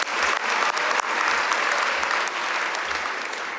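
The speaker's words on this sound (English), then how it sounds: "We could clap, we could clap." Audience at an economics commencement ceremony breaks into sustained applause for the guest speaker, a loud, full wash of many clapping hands.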